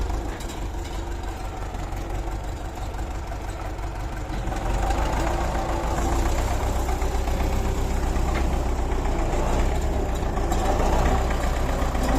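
A tractor engine idles steadily with a low, rumbling throb that grows slightly louder halfway through, running continuously without speech.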